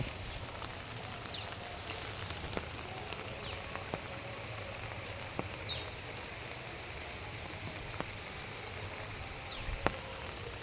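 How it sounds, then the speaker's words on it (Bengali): Heavy rain falls outside overnight as a steady, fairly soft wash of patter, with a few sharper drips and taps heard now and then. "তো কাল থেকে সারা রাত বৃষ্টি হচ্ছে, পুরো পুরো সব ডুবে গেছে।"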